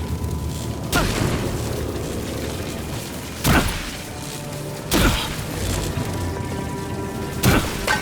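Explosions in the video game Avowed, a series of four sharp booming blasts spaced a couple of seconds apart over a rumbling ambient bed.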